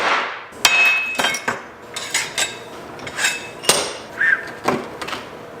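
Sharp, ringing metallic strikes of a hammer on a BMW roll cage part, about a dozen blows at an uneven pace, loud and close, with bright clanging overtones.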